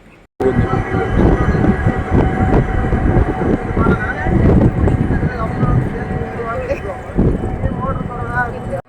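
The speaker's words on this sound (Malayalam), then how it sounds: "ബാംഗ്ലൂർ യശ്വന്ത്പൂർ എന്ന സ്റ്റേഷനിലാണ് നമ്മൾ എത്തിച്ചേർന്നത്" Train sounds on the platform at Yeshwantpur railway station in Bangalore, a steady loud rumble with clatter and rhythmic knocks throughout, mixed with station bustle and people talking nearby.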